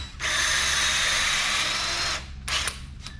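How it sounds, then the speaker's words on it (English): A power drill runs loudly and steadily for about two seconds while working on a boat rudder during rudder removal, then stops, followed by two brief shorter bursts of the drill. "Grab the drill out a little bit."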